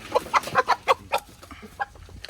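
Several short clucks from a chicken at a home in rural Bengal, close and fairly loud, coming in a quick irregular run and then trailing off into softer, scattered calls.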